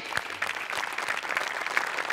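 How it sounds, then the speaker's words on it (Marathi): Audience applause at a Marathi comedy show, a steady patter of many hands clapping with a few sharper claps standing out, continuing evenly throughout. "एकदा जोरदार टाळ्या होऊन जाऊ द्या मॅडम साठी"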